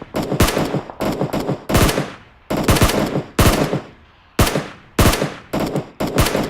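Rapid bursts of gunfire from a shooter video game, PUBG Mobile, crack out in repeated loud volleys of several shots each, separated by short gaps, with no talking.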